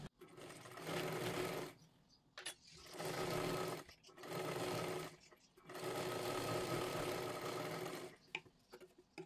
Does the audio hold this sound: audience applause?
no